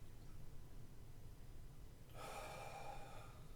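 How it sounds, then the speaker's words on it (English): A person draws a deep breath in through the nose, a soft rushing inhale that starts about two-thirds of the way in over a faint background hum. "take a deep breath in through the nose"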